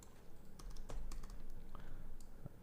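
Fingers type quickly on a computer keyboard, a close, soft patter of irregular key clicks with no talking.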